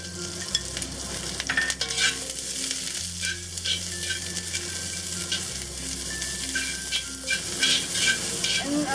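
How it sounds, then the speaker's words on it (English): Onions sizzle in hot oil in a smoking cast iron wok over medium-high heat, a loud, dense, steady frying hiss with scraping stirs, up close. "And I'm going to cook the onions first."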